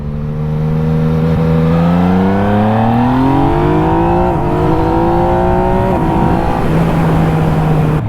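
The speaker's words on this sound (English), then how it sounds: "you hear that exhaust pop" A Yamaha MT-09 motorcycle engine runs loud and steady close by, its exhaust tone rising and falling with the throttle; no distinct pops stand out.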